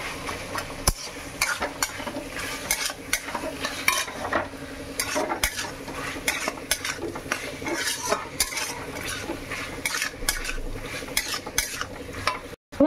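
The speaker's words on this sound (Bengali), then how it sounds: "তো একটু টমেটো কেচাপ দিয়ে এটা ভালো করে সুন্দর করে এর সঙ্গে মাখিয়ে নেবো।" A spoon stirs and scrapes through a chicken patty filling as tomato ketchup is mixed in, with rapid, uneven clinks and scrapes against the pan and a faint sizzle beneath, close and continuous.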